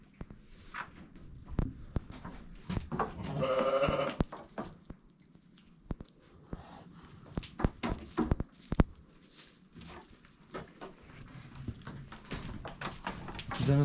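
Young lambs bleat a few times at close range amid rustling, shuffling and soft knocks, with occasional brief human voices nearby.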